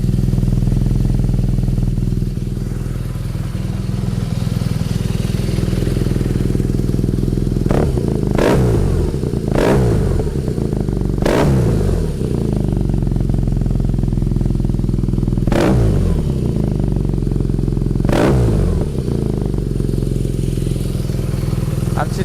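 BMW R nineT 1200cc motorcycle idling in neutral, a steady loud low rumble with a few sharper blips and pops spaced through it, close up.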